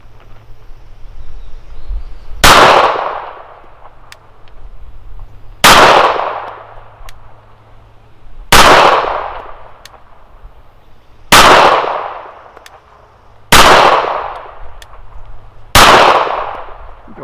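Six sharp gunshots from a Browning Black Label .380 pistol, a 7/8 scale 1911, fired with hand-loaded ammunition at an outdoor range, evenly spaced about three seconds apart, each a loud crack with a brief ringing decay.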